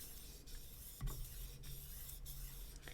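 Fillet knife drawn back and forth over a sharpener: faint, dry rasping strokes recur every half second or so over a steady low background hum, with no talking.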